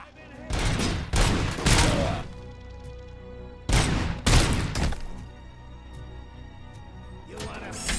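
Rapid bursts of gunfire from the video game RoboCop: Rogue City, two loud volleys of several shots each separated by quieter game ambience, with a brief burst returning at the end.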